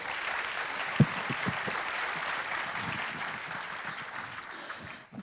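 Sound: audience applause

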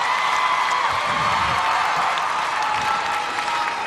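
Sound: audience applause and cheering at an awards show

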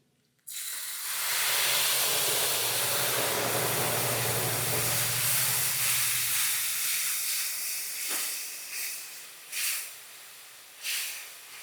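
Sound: whole spices sizzling in hot oil

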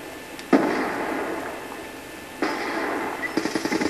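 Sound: C4 explosion in video game Black Ops 2

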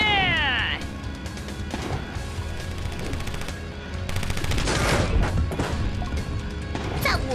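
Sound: gunfire in video game Road Redemption

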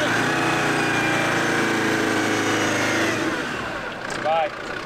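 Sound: engine revving up

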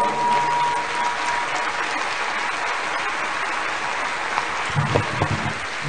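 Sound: audience applause for military police band

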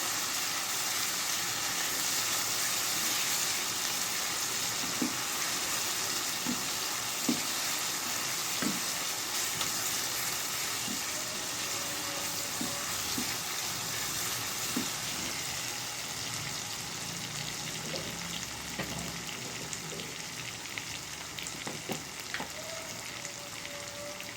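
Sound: garlic frying in pan

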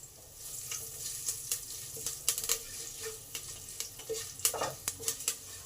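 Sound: garlic and curry leaves frying in mustard oil

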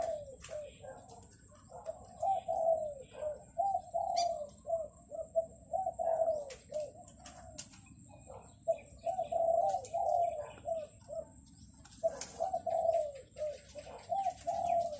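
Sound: spotted dove cooing

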